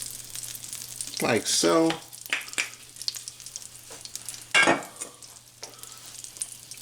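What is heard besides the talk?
butter and olive oil sizzling in frying pan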